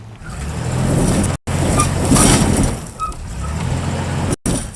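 A 1970 Dodge Challenger engine runs at full throttle while its wheels are stuck in gravel, giving a loud, steady roar with two brief cutoffs and no voices.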